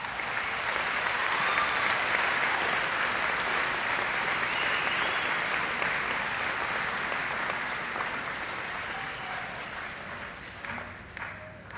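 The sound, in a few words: applause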